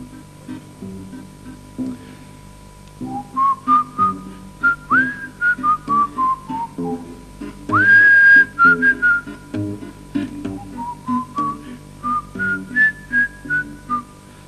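A person whistles a melodic tune during a live song performance at a 1991 Leningrad TV creative evening, clear and close, in a series of short and sustained phrases with a brief louder passage midway.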